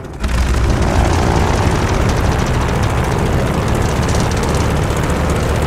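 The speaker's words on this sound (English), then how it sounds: "All right, do an engine run-up." An aircraft propeller engine runs up in Call of Duty Vanguard, a loud, dense, steady roar that starts abruptly and holds throughout.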